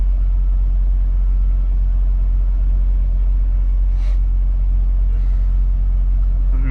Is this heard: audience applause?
no